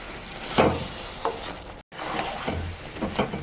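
Chalta (elephant apple) cooks with jaggery in a pan, with a few soft scraping stirs and a low sizzle close by, broken by a brief gap of silence.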